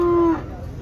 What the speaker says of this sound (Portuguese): Gado aqui de Paulo é vaca para corte